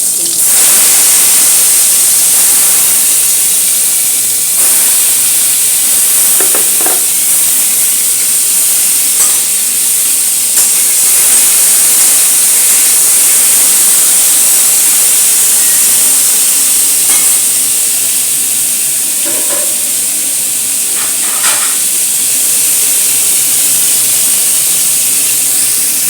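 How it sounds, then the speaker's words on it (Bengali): Spices hit hot oil in a wok with a steady, loud sizzle and hiss, interrupted by faint stirring clinks, while a dish of doi potol (pointed gourd in yogurt) is cooked. "তেল গরম হয়ে গেছে, মশলাগুলো একটা করে দিয়ে দিচ্ছি"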